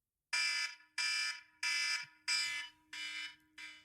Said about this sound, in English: there will be an alarm that will go off to end that conversation, and it will sound like this.